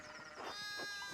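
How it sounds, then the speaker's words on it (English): Sheep bleating in the medieval video game Pentiment, a short wavering cry that swells in the middle and carries a steady tonal hum beneath it. "One of the fence rails fell and the sheep started hopping it."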